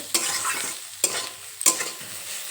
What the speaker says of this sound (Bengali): আবার একটু নেড়ে চেড়ে নেব লবণটা শাকের সঙ্গে মিশিয়ে নেব